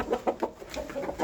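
A young chicken clucks in a quick series of short, close, moderately loud calls with brief gaps between them and nothing else around.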